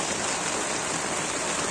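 Heavy rain pouring at a mountain campsite around 1500 meters up, a steady, dense hiss of water falling and drumming on surfaces, loud and close throughout with no voices.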